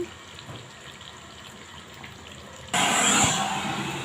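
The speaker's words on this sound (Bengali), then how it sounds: "এখন আমি পানি দিয়ে দিব আমি গরম পানি করে রেখেছি" Hot water is poured into a pot of chicken and new potato curry: a low sizzle first, then an abrupt, loud rushing pour that keeps going.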